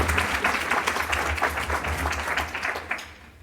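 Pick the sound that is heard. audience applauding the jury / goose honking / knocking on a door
audience applauding the jury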